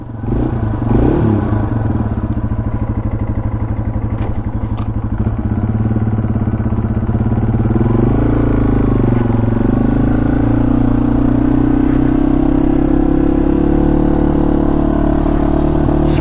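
Yamaha TW200 motorcycle engine screaming in first gear on a loop around a parking lot as it warms up, a loud, steady, close drone that rises and holds as the revs climb, with no talk.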